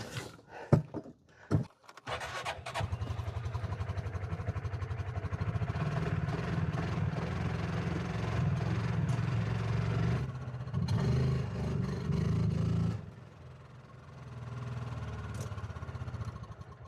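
A farm vehicle's engine strains while trying to tow a movable pig pen, a low, steady rumbling drone that rises and holds under load, dips, then settles back toward idle, with a few clunks at the start.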